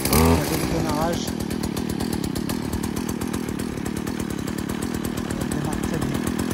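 A Stihl FS70C brush cutter's small two-stroke engine catches with a loud pull and then runs at a fast, steady buzzing idle close by, the rapid firing pulses continuing without a break.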